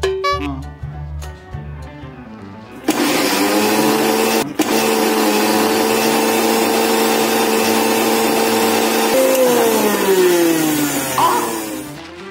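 An Indian mixie grinder starts after some speech and roars loudly and steadily for about nine seconds. A brief jolt cuts in midway, and the motor's pitch shifts near the end as it slows down.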